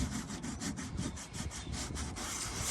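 Sandpaper on a block rubbed over Bondo body filler on a Jeep TJ's patched bodywork, a close, rhythmic rasping in quick back-and-forth strokes with no talk.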